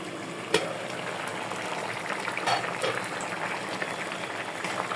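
A pot of Bengali radish and river tengra fish curry bubbles and simmers steadily, a soft continuous boiling hiss with a few small pops, moderately close and with no voices.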